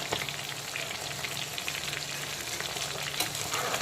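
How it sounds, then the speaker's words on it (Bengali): Bhola fish pieces fry in hot oil, giving a continuous, even crackling sizzle, close and moderately quiet, with no voices. "বাকি যে ভোলা মাছগুলো বাকি রয়েছে ভাজতে, সেগুলোকেও আমি এখন একে একে ভেজে নেব।"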